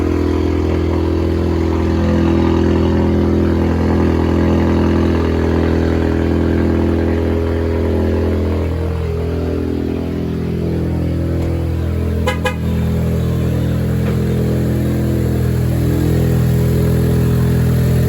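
A 2015–2019 Ford Mustang EcoBoost with a downpipe, turbo-back exhaust, intake and intercooler idles and rumbles loudly and steadily close by, its deep drone holding for the whole stretch with a brief short tone near the middle.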